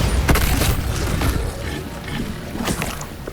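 A Bombarda explosion spell in the Hogwarts Legacy game goes off as a dull, rumbling boom followed by crackling debris and a wash of rushing noise, loud and close with no voices.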